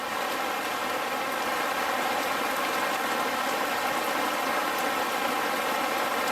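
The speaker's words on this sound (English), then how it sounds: "It's raining." Steady, dense rain falls outdoors near a Jeep TJ being worked on for overheating, a loud, even hiss of drops pattering on surfaces that continues without a break, with no voices.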